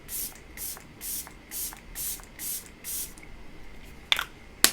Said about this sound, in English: I'm using the Rare Beauty Oils and Optimus setting spray